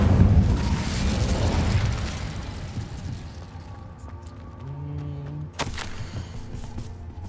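A deep, loud Incendio fire spell blast in a wizard video game booms at once and rumbles away over several seconds, followed by quieter game tones and a sharp crack near the end.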